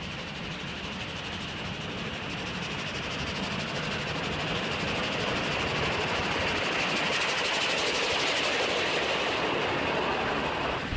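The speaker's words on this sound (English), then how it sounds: "It's time now to climb Mount Washington via the Cog Railway. On the way up, we'll go by biodiesel." A biodiesel-powered Cog Railway train grinds up Mount Washington with a steady, rumbling engine drone and constant mechanical clatter, unbroken and fairly loud throughout.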